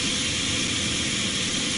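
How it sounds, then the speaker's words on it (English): Aircraft auxiliary power unit running in a flight simulator, a steady broadband whooshing hiss with a low rumble that holds constant at moderate level, with no speech. "That sound you're hearing right now is not the engine, that's the APU."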